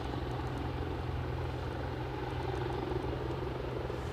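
Loganair airliner at Aberdeen airport lining up at the end of the runway, a steady broadband engine rumble and whine holding at an even, fairly loud level throughout with no voices.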